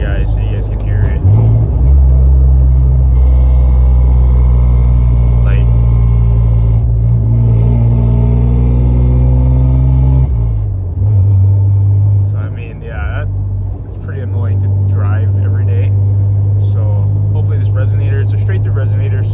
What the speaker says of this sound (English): I'm in the cab right now and the windows are up, and I'll kind of downshift for you guys so you guys can hear it.